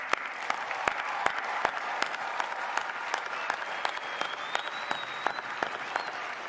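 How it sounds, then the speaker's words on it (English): Graduates at the 2021 spring commencement of UNC Hussman, University of North Carolina at Chapel Hill, receive a steady round of crowd applause, with dense clapping and sharp individual claps sustained throughout. "How about one more round of applause for our graduates?"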